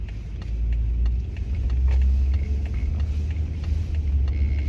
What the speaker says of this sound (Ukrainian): От бачите, я їжджу на своєму автомобілі